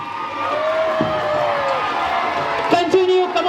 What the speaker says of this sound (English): Cheer up for them, huge round of applause.